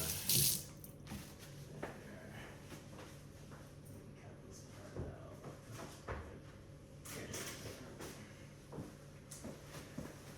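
Hands being washed under a running kitchen tap while baking bread sound as a faint, steady water hiss with splashy bursts and a few soft knocks, quiet and close, with occasional talking.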